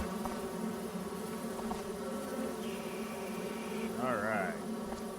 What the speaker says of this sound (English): Oh, it's the bees, I hear.